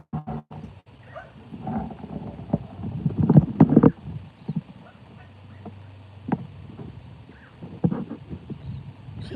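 Ellie, a lazy horse, trots under a nervous rider, her hooves landing in an uneven clip-clop rhythm with scattered thuds and tack noise at moderate distance.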